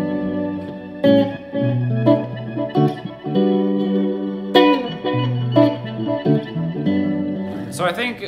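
Electric guitar chords and picked notes through a Strymon Timeline's ice mode, washed in shimmering reverb and delay, sustained and atmospheric, with trailing echoes between phrases.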